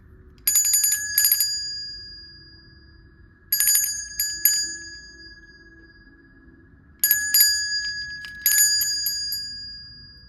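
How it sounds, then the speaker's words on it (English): A bell struck in quick bright clusters of rings, four bursts with pauses of quiet between them, each ring clear and sustained before fading. "I keep getting tempted to ring the bell."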